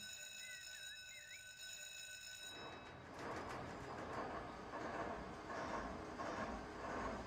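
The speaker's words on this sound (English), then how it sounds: "So that should fire up all of our locomotives." CSX diesel locomotives starting up in the Run 8 train simulator in Georgia: a quiet idle with bird chirps, then at about three seconds a broad engine rumble swells in and holds steady, throbbing faintly until the end.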